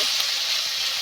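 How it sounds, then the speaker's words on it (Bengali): Spices sizzle in a hot pan alongside tomato, a brief, steady, loud frying hiss with no talking. "এবার এই মশলাগুলো আমি খুব সুন্দর মতো করে ভেজে নেব"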